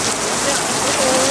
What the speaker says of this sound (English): Here we are, all standing in the rain.